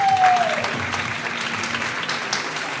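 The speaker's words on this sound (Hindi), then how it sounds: "नहीं तालियां बजाओ यार।" A studio audience at a cricket talk show applauds, a dense burst of clapping that stays steady throughout, with a voice heard briefly over it.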